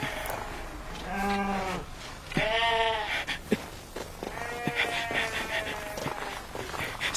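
Sheep in a flock bleat in several distinct, wavering cries at moderate distance, spaced over a quiet outdoor background with faint scuffs and movement.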